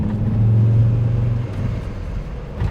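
Volvo XC90 engine held at full throttle after new engine mounts, a loud low droning rumble close by that eases slightly toward the end.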